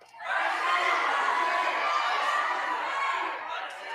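A crowd of people shouts and clamors in a church passion play, a dense, steady mass of voices holding loud for about four seconds before easing slightly near the end.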